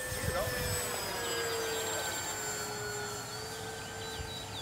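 Dynam B26 1500mm RC model airplane in flight outdoors, a steady high electric-motor whine with shifting pitch as it passes, heard continuously at moderate distance.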